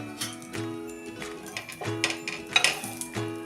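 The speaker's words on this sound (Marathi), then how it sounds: "आता चमच्यानं पहिल्यांदा आपण अशा ह्या कडा सोडवून घेऊया" A metal spoon scrapes and taps around the edges of a rice-flour amboli on a hot pan, soft repeated scratches and clinks over a faint sizzle.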